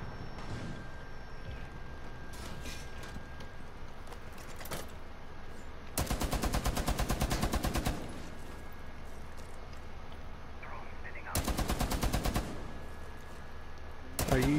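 Gunfire in the video game Rainbow Six Siege: two loud, rapid bursts of automatic shots, one lasting almost two seconds and a shorter one later, with quieter game ambience between them.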